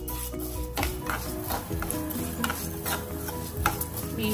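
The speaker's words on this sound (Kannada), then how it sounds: "ಫಸ್ಟ್ ದ್ರಾಕ್ಷಿ ಗೋಡಂಬಿ ರೋಸ್ಟ್ ಮಾಡ್ಕೊಳ್ಳಿ" Raisins and cashews roast in plenty of ghee for payasa, with a steady close sizzle under repeated stirring scrapes and light clinks of the spoon against the pan, no talking.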